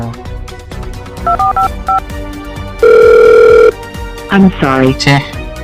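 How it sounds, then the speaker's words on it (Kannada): A few short electronic beeps, then a steady telephone ring tone sounds once, unanswered, with a voice speaking briefly before and after. "ಫೋನು ಪಿಕ್ ಮಾಡ್ತಾ ಇಲ್ಲ."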